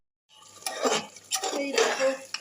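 Potatoes tipped into a pot of spice masala for a mutton curry give a few close clattering knocks and scrapes of a spoon against the metal pot.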